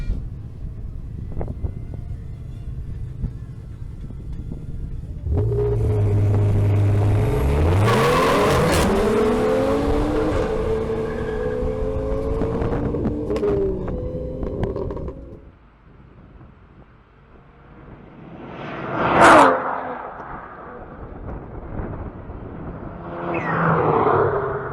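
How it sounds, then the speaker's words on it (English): A BMW M240i xDrive launches on a timed sprint run, its engine climbing through rising revs and gear changes as it roars loudly past under wind buffeting, then fades, with a sharp burst later on. "Sebastián Sepúlveda in his BMW M240i xDrive improves his previous time by 36 milliseconds"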